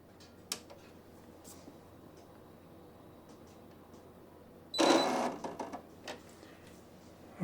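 A Brother PE-900 embroidery machine powers on in maintenance mode: quiet ticks first, then a loud burst of mechanical whirring and clicking as the hoop moves, fading into scattered clicks.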